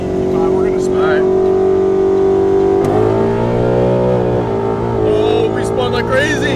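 A 700 whp Procharged Mustang GT with a Gen 3 Coyote V8 and 10-speed gearbox roars loud and close through a rolling pull from 65 with wheels spinning, its engine note climbing in pitch as it revs, while occupants talk over it.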